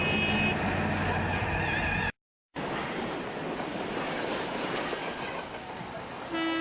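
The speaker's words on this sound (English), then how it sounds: "To try and get across in front of the train, and here's the train." A train rushes past close by with a loud, continuous roar and rattling, broken by a brief moment of silence.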